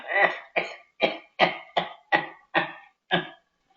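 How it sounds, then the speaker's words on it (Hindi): Nine harsh, chesty coughs in a steady series, each a short burst with a brief pause between, fairly close and with no talking. "तुम्हारी खांसी तो बहुत जोर पकड़ गई है"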